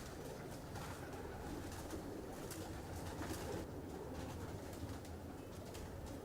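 A twenty-year-old pigeon coos steadily for several seconds against a dense, noisy background, with no clear breaks.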